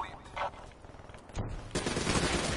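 Rapid gunfire in a Black Ops 3 multiplayer match, a dense crackling stream of shots at moderate distance that thickens toward the end.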